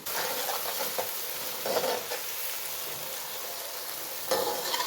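Chopped garlic and green chillies sizzle steadily in a hot pan, with a few scraping stirs breaking through the constant crackling hiss; no voices.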